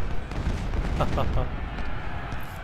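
Cannon and artillery fire from a Civil War battle in the video game Ultimate General: Civil War, a steady dense rumble of booming shots running throughout at a constant level, with someone talking over it.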